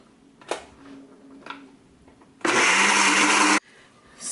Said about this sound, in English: I'm going to add the oil now. So let me turn this on.